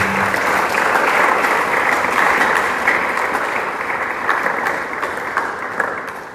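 A church congregation applauds the Lord during a French-language worship service, a dense, steady wave of many hands clapping together for several seconds, loud and close, slowly tapering toward the end.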